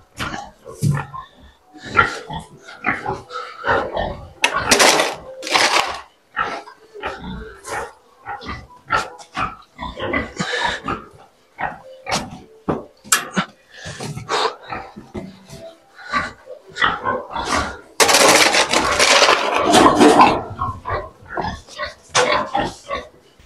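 Pigs grunting and oinking in a farmyard at an abandoned village, a busy stretch of snorts and squeals mixed with dog-like barks and growls, close and fairly loud throughout.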